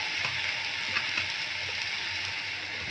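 Ginger garlic paste with ground cumin, turmeric and chili powder frying in a pan, a steady close hiss and sizzle with faint stirring scrapes and no talk.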